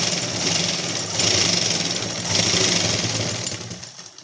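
A sewing machine stitching a salwar, running in steady mechanical bursts with a whirring, rapid needle rhythm, pausing briefly between runs before winding down, close and fairly loud with no talk.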